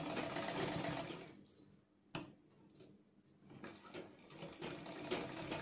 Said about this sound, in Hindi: तो पहले हम इस पे ऐसे मोड़ते हुए कच्ची सिलाई लगा लेंगे।